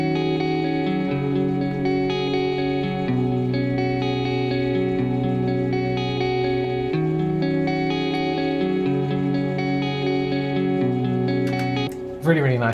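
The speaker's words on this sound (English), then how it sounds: "my favourite part of the song that I put together was this kind of picked guitar part," A picked electric guitar part with chorus, echo and reverb effects, playing steady arpeggiated notes in a flowing, repeating pattern, clear and prominent with a short noisy tail at the end.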